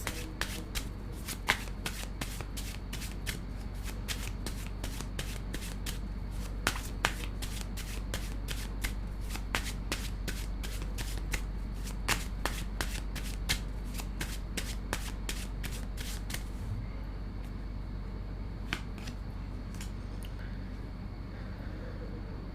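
Tarot cards being shuffled by hand, close and fairly quiet: a long run of quick riffling flicks and soft slaps that thins out and fades near the end, with no talking.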